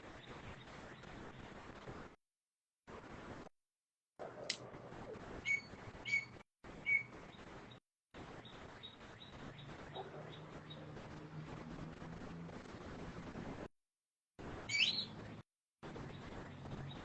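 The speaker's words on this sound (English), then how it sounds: "There's so many birds coming out to play right now." Birds chirp faintly outdoors during a 2024 solar eclipse, with scattered thin high calls and short tweets over a low, steady ambient hum, broken by brief dropouts.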